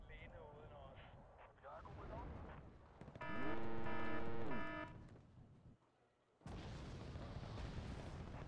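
Bombs fall on Jaeger infantry in Wargame: Red Dragon: low rumbling blasts and booms. A loud jet-like tone rises and falls in the middle, then the sound briefly drops before another burst of noise. A voice talks over parts of it.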